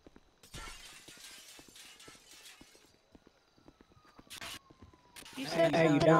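Glass smashing during a roleplay game construction job, with several brief crashing shatters among footsteps and clatter, then a louder burst of breaking at the end, and a voice heard talking.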